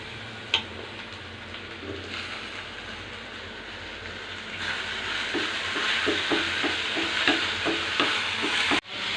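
Tomatoes fry with golden onions in a pan for drumstick sambar, a soft continuous sizzle broken by stirring scrapes and a sharp clack early on, growing louder and busier partway through.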